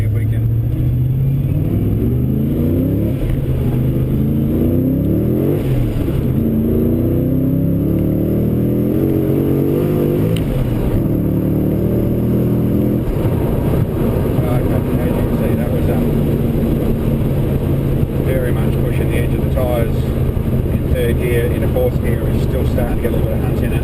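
Vortech supercharged 402 LS2 VE GTS accelerating from a rolling start, a loud continuous engine drone whose pitch sweeps upward through the gears, heard from inside the car with someone talking over it.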